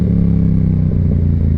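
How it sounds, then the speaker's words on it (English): A Yamaha R7 supersport motorcycle engine loud and close, with a deep, throbbing, steady exhaust drone and a slight shift in pitch near the end, heard alone without talk. "Let's hear them downshifts."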